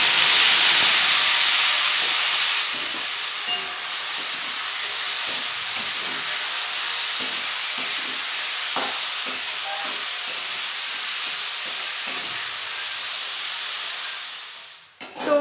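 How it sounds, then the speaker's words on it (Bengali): Potatoes frying in mustard oil with nigella seeds, a loud hissing sizzle that stays fairly even for most of the stretch with scattered small pops and knocks, fading sharply at the very end, no talk. "তো আলুগুলো ভাজা হয়ে গেছে"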